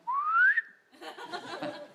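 A Swanee slide whistle blown in one rising glide, loud and close, followed by a burst of audience laughter.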